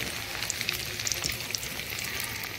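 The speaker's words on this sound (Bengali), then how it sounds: "পকোড়া গুলো ভাজা হয়ে গেছে, তুলে নেবো।" Stuffed chili pakoras frying in hot oil, a steady dense crackle and sizzle with scattered pops, close and continuous with no voices.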